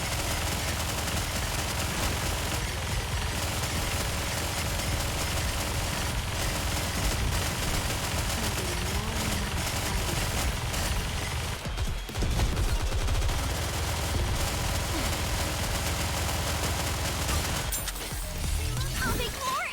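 Dense, continuous gunfire from the video game Nikke, rapid automatic bursts and impacts that keep up almost without a break, loud and close, with game effects mixed in.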